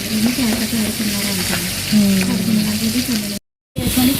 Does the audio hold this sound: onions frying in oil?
yes